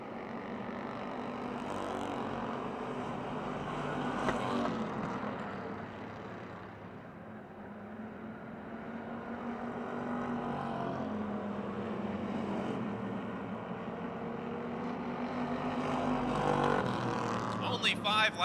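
Race cars lap a short-track oval at Motordrome Speedway in a 2007 feature race, a steady distant engine drone rising and falling as the field passes, heard beneath continuous announcer commentary.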